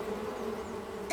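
A cartoon honeybee buzzes steadily and close, a continuous drone with no speech over it.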